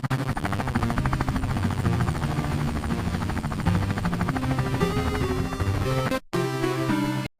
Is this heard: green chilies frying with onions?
no